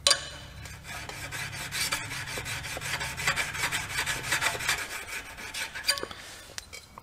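A WWII Cattaraugus 225Q knife blade rubbed with a die polishing stone and light oil: a continuous close gritty rasping stroke that fades out near the end, no talking.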